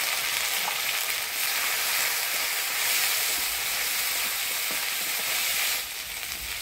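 Ground spice paste with turmeric, salt and bay leaf frying in oil for foli fish curry with kochur mukhi, a dense, steady sizzle with faint stirring scrapes, loud and close throughout.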